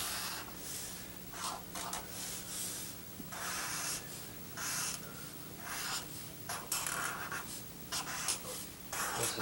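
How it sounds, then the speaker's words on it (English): A pen scratches steadily across paper while a cartoon mouse is drawn, giving continuous close strokes in bursts with brief pauses, against a low background hiss and no talking. "I'm drawing a mouse"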